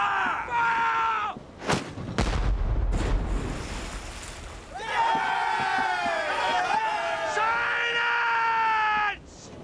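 A ship's starboard bow chaser cannon fires in a sea battle, a sharp booming blast with a low rumbling tail, set between bursts of loud shouting crew voices.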